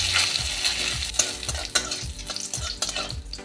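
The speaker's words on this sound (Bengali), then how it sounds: "এবার দেব একটা ফোড়ন। দেব এলাচ, লবঙ্গ, দারচিনি, একটু জিরে, সাদা জিরে, সামান্য হিং আর তেজপাতা।" Whole spices (cardamom, cloves, cinnamon, cumin, asafoetida and bay leaf) sizzle in hot ghee, crackling steadily as a utensil stirs and scrapes the pan in regular strokes, up close with no speech.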